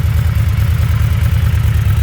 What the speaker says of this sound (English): Let's hear it. Yeah. Healthy motor. Sounds as it should.